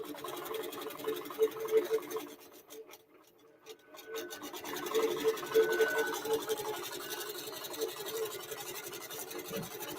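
A sewing machine quilting a quilt, a soft continuous stitching and rubbing hum that dips briefly and then resumes, running steadily on its own without talk.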